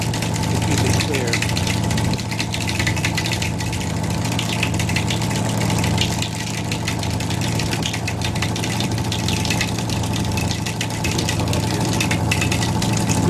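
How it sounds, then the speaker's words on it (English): A generator aboard the sailing ship Sea Cloud runs continuously, a steady mechanical engine drone with rattling, ticking texture that stays constant throughout, close and fairly loud. "there's a generator that will always be running the air conditioning."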